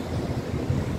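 Steady wind blows and buffets the microphone with a low, rumbling roar, and no other sounds stand out.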